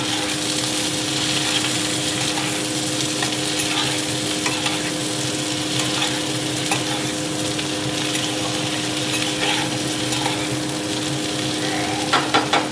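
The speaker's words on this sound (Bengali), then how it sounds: "এটা একটু ভাজা ভাজা করে নেব।" Capsicum, onion and tomato fry in a pan with eggs for egg chilli, a loud, dense, continuous sizzle under frequent stirring, with a faint steady hum beneath and a few clinks at the end.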